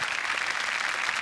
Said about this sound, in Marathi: जोरदार टाळ्या या टीमसाठी